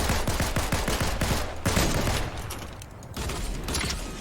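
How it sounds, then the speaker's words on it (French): Rapid automatic gunfire in a shooting video game, dense loud bursts of repeated shots with brief gaps, close and continuous throughout. "J'ai loupé ma balle de sniper"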